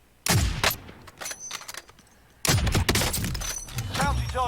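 Warzone video game gunfire, two sharp bursts of rapid shots with ringing impacts and a brief pause between, loud and close, with game effects and faint chatter mixed in.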